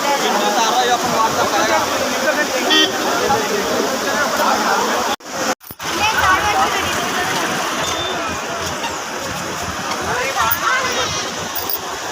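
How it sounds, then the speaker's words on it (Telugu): Heavy floodwater from a cyclone rushes and roars steadily up close, a loud continuous torrent with a brief dropout partway through and faint voices beneath. "ఆ దగ్గర నుంచి ఫుల్ వాటర్ వస్తున్నాయి ఫ్రెండ్స్"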